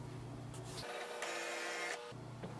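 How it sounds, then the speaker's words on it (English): HP Smart Tank 5107 printer copying an ID card, its scanner motor humming and rasping steadily with a mechanical whir and a brief change in pitch midway, close and alone. "So press the ID button and then press the copy button."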